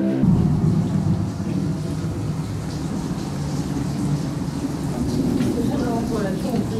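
Steady heavy rain falls with a deep roll of thunder, a dense, continuous wash of noise close by, while voices are faintly heard under the storm.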